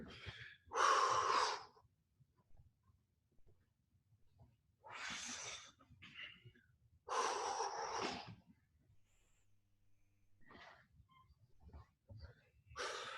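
Heavy, effortful breathing from people working through a morning Brazilian jiu-jitsu class exercise, with loud bursts of breath coming in uneven gusts and short quiet gaps between them.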